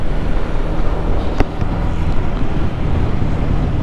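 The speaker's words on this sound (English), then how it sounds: "Riding the Suzuki Gixxer 250." Suzuki Gixxer 250 motorcycle riding along, its engine drone buried under heavy, steady wind rush at the microphone for the whole stretch.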